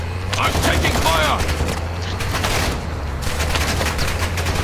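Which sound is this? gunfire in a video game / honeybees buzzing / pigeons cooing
gunfire in a video game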